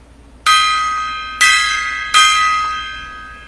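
Three struck metal strikes from a gong, each ringing out with a bright sustained shimmer and slowly decaying, spaced about a second apart, loud and close with no talking.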